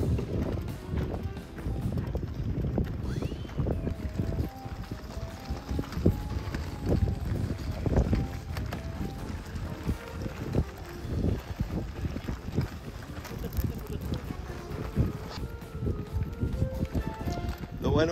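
A pair of oxen walks along pulling a boat. Their hooves give a steady, irregular clopping and thudding under wind noise, and people talk throughout.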